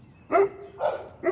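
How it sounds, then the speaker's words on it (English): Dogs barking indoors in the background, three short yaps spaced evenly about half a second apart, fairly quiet and distant, with no one talking over them. "My dogs are joining in if you can hear them barking in the background."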